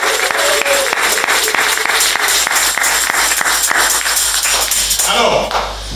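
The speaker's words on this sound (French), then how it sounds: "Est-ce que nous pouvons donner une offrande d'acclamation au Saint-Esprit?" A church congregation at a Sunday service claps in a steady, even rhythm as an offering to the Holy Spirit, loud and close, with the clapping fading out at the end.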